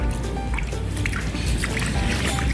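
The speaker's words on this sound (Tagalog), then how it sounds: "mabilis yung baba ng tubig" Water drains fast through a screened roof deck drain, a dense run of dripping, trickling and gurgling that holds steady and close for the whole short stretch with no voices.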